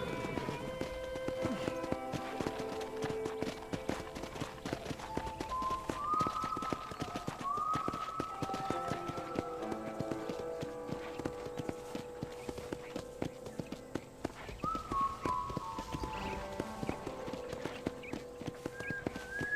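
Steady clip-clop of horse hooves from Red Dead Redemption plays under a melodic, whistling game soundtrack, the hoofbeats continuous and mid-level throughout.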